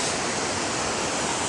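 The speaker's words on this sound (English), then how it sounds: "There's the falls. Rock Creek Falls." Rock Creek Falls, a waterfall on a long-distance trail, pours in a steady, dense broadband rush that fills the whole moment without any break or voice.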